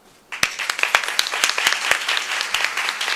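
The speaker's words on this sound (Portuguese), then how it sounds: "hoje vai ser um dia só palmas, muitas palmas" At a congress session, audience applause starts abruptly and builds into a fairly loose clatter of individual claps, sharp hand strikes standing out over the general patter.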